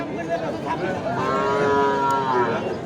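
A cow at a busy cattle market gives a loud, drawn-out moo close by, over constant crowd noise.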